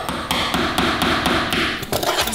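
A small hammer taps steadily in a quick, even rhythm, about eight close, light knocks during plaster staff ornament installation work in a kitchen and living room, with a slightly heavier strike near the end.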